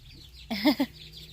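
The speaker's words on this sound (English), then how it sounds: "I named my goose Ivy." A pet goose lets out a couple of short clucking honks, close and fairly loud, over a quiet outdoor background during a break in the rain.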